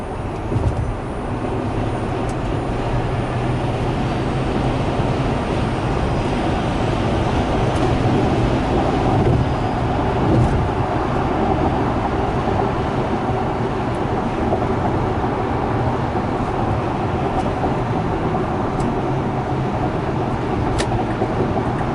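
A Tesla Model X pulls away at full throttle, giving a steady, fairly loud low drive whine with road and wind rush that holds for about twenty seconds inside the cabin, with no speech.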